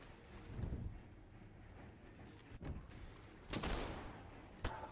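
Video game gunfire at summer camp, scattered muffled shots and short bursts spaced across several seconds, fairly faint under a steady background hiss.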